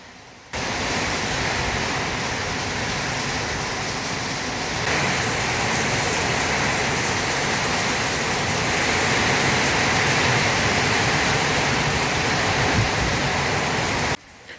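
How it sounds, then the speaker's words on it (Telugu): Steady rain pours down without a break, a dense even hiss of drops that stays loud and constant from start to finish. "చూడండి వర్షం ఎట్లా వస్తుందో"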